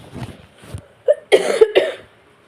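A short run of harsh coughs, three or four bursts close together, loud and near, after some quiet movement.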